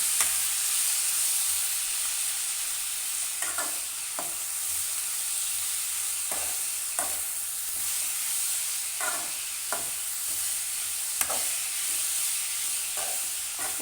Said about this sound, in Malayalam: ക്യാരറ്റും കൂടി ഇട്ട് കൊടുക്കണം. ഒന്ന് ഇളക്കി കൊടുക്കാം.